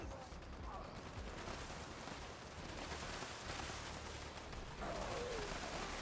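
Constant heavy gunfire in Fallout 76, a dense distant-sounding barrage like minigun fire that roars steadily and unbroken at low level, with a voice talking over it.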